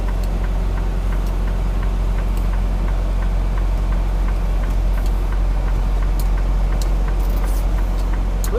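A delivery truck's engine idles steadily at the Performance Food Group site in Lebanon, Tennessee, giving a constant low rumble with no talking over it.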